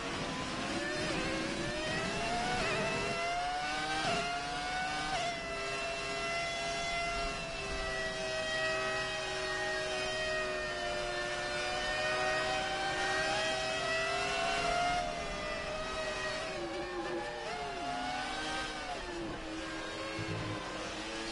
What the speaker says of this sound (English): Yeah, you can really hear that V10 engine sound.